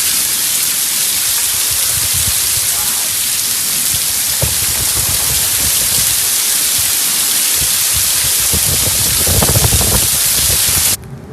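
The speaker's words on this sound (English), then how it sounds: "You see that rainstorm we had" A heavy Florida rainstorm pours down hard and close in a dense, steady roar that holds for several seconds and then cuts off abruptly. No one speaks.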